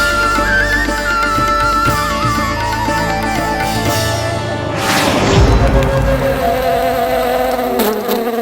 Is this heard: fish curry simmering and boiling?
no